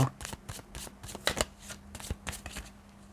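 Two decks of fortune-telling tarot cards being shuffled by hand, giving a steady close riffling and rubbing with repeated soft bursts and no talking.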